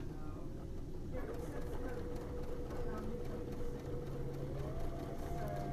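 A sewing machine stitches along the edge of a kitchen towel with a faint, continuous mechanical hum, running quietly and without pause from start to finish.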